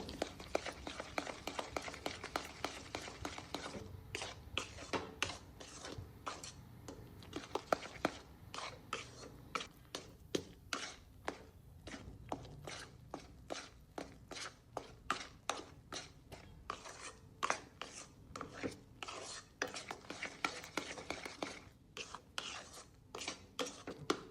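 A spoon works through coconut ladoo mixture thinned with saffron milk in a pan, giving a quick, steady run of close scraping strokes over several seconds, with no talking.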